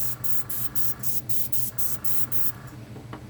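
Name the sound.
airbrush spraying alcohol ink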